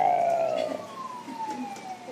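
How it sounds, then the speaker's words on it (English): A police car siren wails in the distance, a falling tone sweeping down over a couple of seconds, faint and unaccompanied by nearby speech. "Police car."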